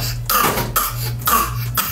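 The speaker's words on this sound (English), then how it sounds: "he's trying to act like he's coughing" A child fakes a cough, three or four forced, voiced coughs in quick succession, close and fairly loud indoors.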